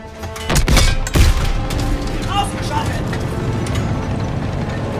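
Two sharp, loud gunshot blasts in quick succession in the video game Call of Duty WWII, followed by a low rumbling background and faint mechanical noise.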